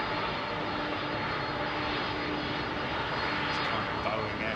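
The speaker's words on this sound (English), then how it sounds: "Is that another Delta 330 or is that a 767 pushing back?" An Airbus A330 jet airliner sits at Heathrow airport while a steady engine hum and whine runs at moderate distance, constant and unbroken, with faint talk beneath it.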